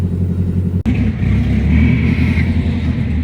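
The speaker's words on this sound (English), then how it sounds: "We pulled the S15 up, got the jumper cables ran, so we just jump start the S14." A Nissan S14 drift car engine catches after a jump start and settles into a loud, steady, close-up rumbling idle, with a brief dropout just before it fires.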